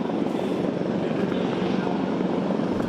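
An EC-725 air force helicopter flies close by during a disaster relief exercise, its rotor and engine noise a loud, steady, continuous roar from start to end.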